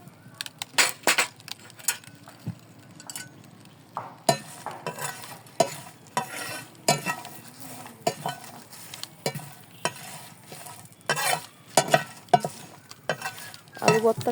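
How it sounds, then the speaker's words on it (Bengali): Chopped garlic frying in a pan, a sizzle broken up by frequent sharp scraping and clinking stirs of a utensil, close and fairly busy, with no one talking. "দুটো রসুন কুচি দিয়ে দিলাম।"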